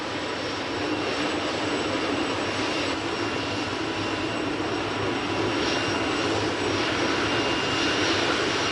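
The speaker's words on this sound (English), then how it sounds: "My engines are revving faster and faster and faster." Helicopter engines and rotors spin up in a steady, loud, broadband whine and roar, holding a continuous wash of sound with faint pulsing from the blades and no voices over it.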